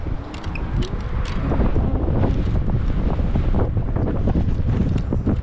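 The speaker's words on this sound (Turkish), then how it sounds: "Hava biraz rüzgarlı." Strong wind buffeting the microphone outdoors while riding electric scooters, a steady loud rumbling roar with gusts, joined by a few faint clicks and knocks.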